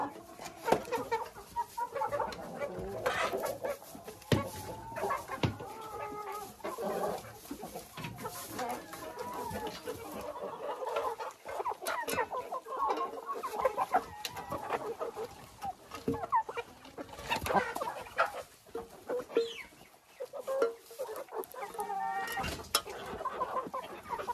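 Young and old hens cluck in a soft, continuous murmur, with occasional sharper calls close by in a backyard flock, and no talk over them.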